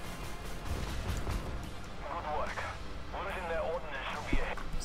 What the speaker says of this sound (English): Shoot at it with auto cannons.